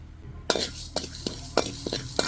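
Fenugreek seeds and cardamom dry-roasting in a pan for prawn pickle, with a utensil stirring and scraping in several short clinking bursts over a soft, steady sizzle.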